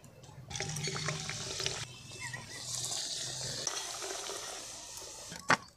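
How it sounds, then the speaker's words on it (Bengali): Kachori made with green peas frying in a wok of hot oil, a steady bubbling, sizzling wash throughout, with a sharp clatter near the end. "আমি কচুরি ছাড়ছি।"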